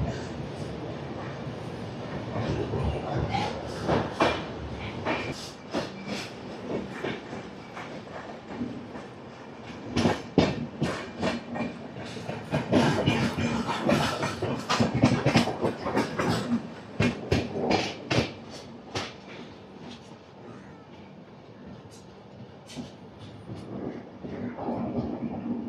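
The Puri–Howrah Shatabdi Express rolls along the rails near Khurda Road, its loud, rhythmic clickety-clack of wheels over rail joints rising and falling from inside the coach, with no talking.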